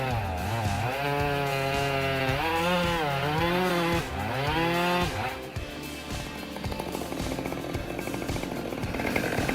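Chainsaw cutting beechwood, a loud continuous engine whine with rising and falling pitch as the saw bogs and revs through the wood, then a rougher, grinding stretch toward the end.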